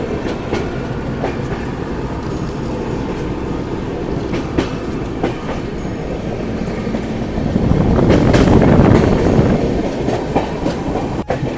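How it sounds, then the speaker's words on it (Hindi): Swarna Shatabdi Express pulling out of Kanpur Central, a steady rumble of rolling coaches with rhythmic wheel clatter that swells louder toward the end, no voices. "तो कानपुर सेंट्रल से यहाँ से अब ये ट्रेन चलना स्टार्ट हो चुकी है।"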